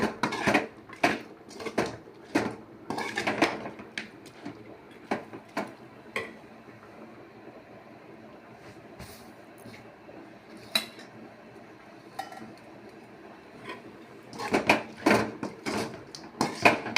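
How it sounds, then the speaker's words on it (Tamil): Chicken pallipalayam being stirred in a cooking pan: irregular scraping and clinks of a utensil against metal, in bursts at the start and end with a quieter stretch of light taps between. "நம்ம வந்து இதை விடாமல் கிளறிக்கிட்டே இருக்கணும்"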